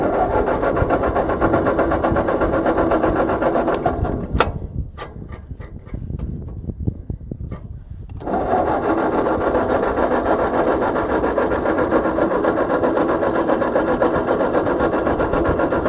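An old tractor engine cranks and sputters with a dense, rough mechanical rumble, cuts to near silence with a few sharp clicks and knocks, then resumes the steady cranking roar without catching.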